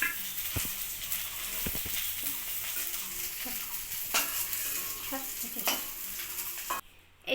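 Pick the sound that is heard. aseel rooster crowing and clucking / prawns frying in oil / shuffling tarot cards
prawns frying in oil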